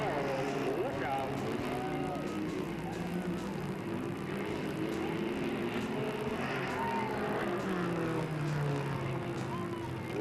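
Race cars run at Delta Speedway in 1997, a continuous engine roar with rising and falling pitch sweeps as cars pass, heard at a distance beneath a race announcer's talk.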